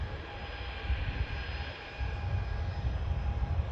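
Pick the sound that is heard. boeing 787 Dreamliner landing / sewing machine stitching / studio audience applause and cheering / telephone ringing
boeing 787 Dreamliner landing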